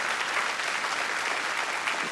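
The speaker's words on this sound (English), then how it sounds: "can we clap our hands for the Spirit of God right now?" A church congregation claps their hands together in a steady, full round of applause, close and sustained without any break.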